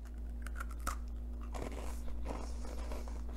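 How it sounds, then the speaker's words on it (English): A few crisp crunches from biting into a brittle beer biscuit, followed by soft chewing against a steady low hum. "I'm gonna have a bite."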